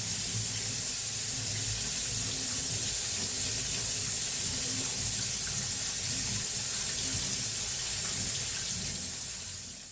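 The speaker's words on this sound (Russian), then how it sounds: "и хорошенько промою их под проточной водой" Steady running water from a tap pours continuously with a broad hiss over grains in a colander, the flow unbroken and close by for the whole stretch.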